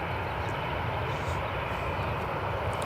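A Ryanair airliner sits on the runway at Newcastle International Airport, its jet engines giving a steady, broad distant roar. The hum stays even throughout with no other sounds.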